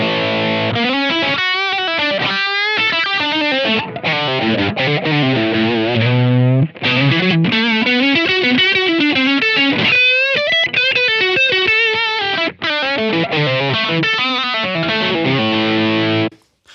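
Electric guitar through a Blackstar Dept. 10 Dual Distortion valve pedal plays fast, shredding lead lines with heavy saturated gain, loud and continuous with a few short pauses between phrases.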